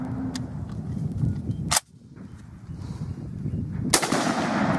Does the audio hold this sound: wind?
no